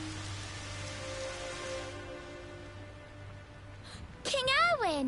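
Steady rain falls on a night scene in Dragon Quest XI, a soft even hiss under quiet ambient music, before a brief burst of game sound effects near the end.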